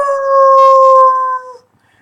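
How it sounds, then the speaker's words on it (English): Wolf-like howls played as a sound effect during a tabletop role-playing game, one loud, sustained, tonal howl that holds steady and then tails off into silence. "you hear howls."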